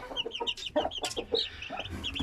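Chickens, İzmir hens kept with roosters in a backyard coop, cluck repeatedly in short overlapping bursts close by, with several birds calling at once and no talk.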